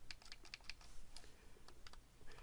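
Xbox Series X/S controller buttons give a quick run of sharp, crisp clicks, some in fast pairs and others spaced apart, close and fairly quiet, with no voices.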